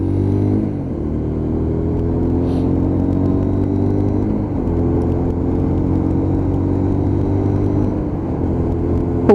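A Lexmoto LXR motorcycle engine idles loud and close at traffic lights, holding a steady low drone with a couple of brief throttle blips and no speech.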